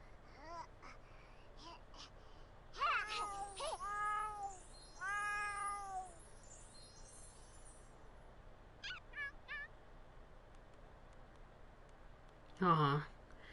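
A pet cat in The Sims 4 gives several short, high, wavering meows in quick bursts, followed later by a couple of brief chirps. A voice talks faintly over a low background, and game music and effects also play.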